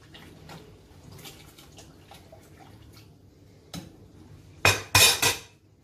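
A pot of Greek bean soup seasoned with paprika is stirred, with a few quiet spoon taps and then several loud, close clanks of metal against the pot near the end.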